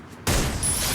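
Gunfire in the Free Fire video game cuts in abruptly as a loud, dense burst of shots that carries on steadily for most of a second after a quiet lead-in.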